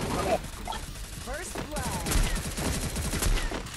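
Rapid bursts of gunfire from the battle royale game Free Fire, with AKM rifles in play, crackle in quick repeated volleys throughout, mixed with game effects and excited voices talking over the shooting.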